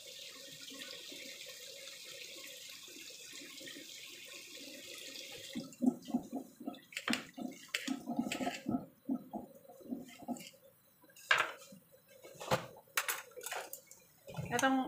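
Tap water running into a pan as raw meat is rinsed, a soft steady stream that turns into irregular splashing and clattering against the pan, with a voice speaking over it.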